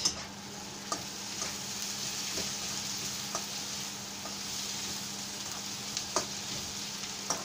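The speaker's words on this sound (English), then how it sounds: "So now I'm going to stir a bit." Ingredients for a shorputi fish curry frying in a pan, a soft steady sizzle with occasional utensil scrapes and taps every second or so, close but quiet, with no talking.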